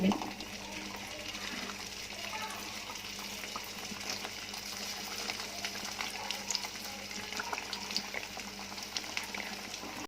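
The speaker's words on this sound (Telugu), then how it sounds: "ఆయిల్ హీట్ ఎక్కాక మనం చేసుకున్న పూరీని డీప్ ఫ్రై చేసుకోవాలి." Sweet puri deep-fries in hot oil, giving a steady, close bubbling sizzle that carries evenly from start to end with no talk.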